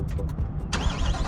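A Chevrolet Corvette C8 with an aftermarket exhaust fires up partway through, its engine catching with a sudden loud burst that settles into a steady, close idle rumble.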